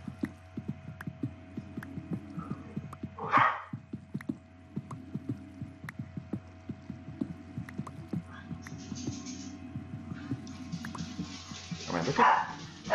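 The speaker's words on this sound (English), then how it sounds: "Dog, stop." A dog in the game Guardian Base gives two short, loud barks several seconds apart over a low humming, throbbing game soundtrack with rhythmic pulses.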